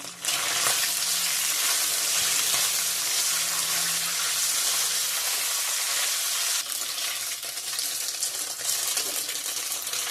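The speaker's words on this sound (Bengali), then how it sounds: "পনিরটা আমার লাল লাল করে ভাজা হয়ে গেছে" Paneer pieces fry in hot oil for paneer chana masala, giving a loud, continuous sizzle that eases slightly after a few seconds, with faint stirring taps.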